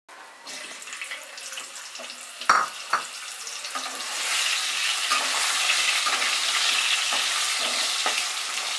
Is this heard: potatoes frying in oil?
yes